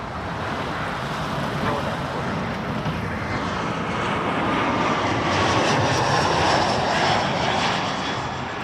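Loud, continuous roar of jet airliner engines at Toronto Pearson airport, a broad rushing drone that swells slightly as the aircraft passes nearby, with no talk over it.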